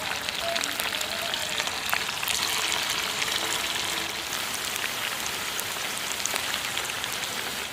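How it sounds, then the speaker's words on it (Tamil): Potato fries snacks deep-frying in hot oil, a continuous close crackling sizzle with scattered pops, steady and unbroken throughout. "இப்போ எண்ணெயில் போட்டு பொரிக்க வேண்டியதுதான்."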